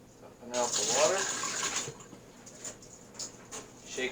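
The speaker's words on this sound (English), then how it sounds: "Lifting the inner cup up. Dumping out the water." Water is poured out of the inner cup of an EasySprout sprouter in one short splashing gush lasting just over a second, followed by a few small trickles and drips.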